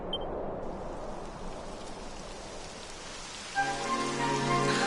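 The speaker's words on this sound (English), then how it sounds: "It would have to go and start raining, wouldn't it?" Rain falls in the Dragon Quest XI video game, a steady broadband patter that stays even throughout before soft tonal music rises near the end.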